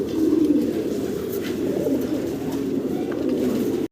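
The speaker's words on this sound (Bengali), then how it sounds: "একজোড়া হেলমেট কবুতর দেখাচ্ছি" A pair of helmet pigeons on a large pigeon farm coo in low, soft, rolling murmurs that continue steadily and close by, with no talking.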